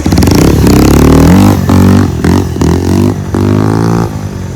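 A motorbike rides through a big pothole near a lake, its engine loud and close, rising and falling in bursts as the throttle opens and eases through the rough dip.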